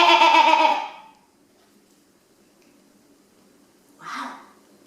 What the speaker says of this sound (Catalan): Què fa l'ovella? Bé, bé, bé.